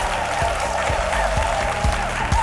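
Studio audience applauding to welcome guest Larissa Soumaye on a midday TV talk show, steady dense clapping with rhythmic low thumps throughout, moderately loud and without talk.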